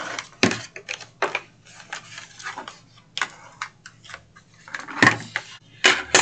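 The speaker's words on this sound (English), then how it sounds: "So I am just folding and burnishing all of my scores." Double-sided patterned paper being folded along score lines and burnished flat for a craft project, heard as a series of close, sharp scraping and tapping strokes in irregular bursts with quiet gaps between.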